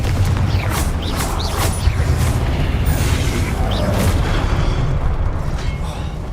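Confringo fire spell in Hogwarts Legacy: a series of loud, sharp magical bursts and booms over a constant rumbling bed, several blasts in close succession near the start, with no talk.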